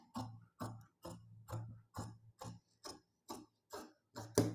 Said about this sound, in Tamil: இந்த ஷேப்பை வந்து அப்படி இப்படி கட் பண்ணிக்கலாம்.